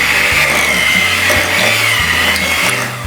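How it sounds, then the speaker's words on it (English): Stand mixer creaming red velvet bar batter, a steady loud motor whir with a grinding, rubbing texture and a pulsing low rhythm of the beaters, running continuously without talk. "So we're gonna keep creaming it until it gets really nice and smooth."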